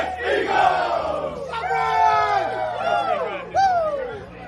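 Eagles football fans roar in a crowd, a loud, close, dense wall of yelling voices with surging shouts that swell again near the end.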